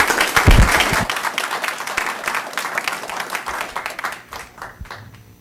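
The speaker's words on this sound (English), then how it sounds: "please give her a round of applause first for the hard work that she's done" Applause at a city council meeting, a room of people clapping loudly at first, then thinning into scattered claps that taper off toward the end.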